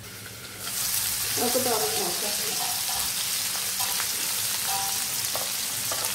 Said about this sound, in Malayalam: ആദ്യമായിട്ട് വെക്കുന്ന കുറച്ച് ഫ്രൈ ചെയ്യാൻ നോക്കാം.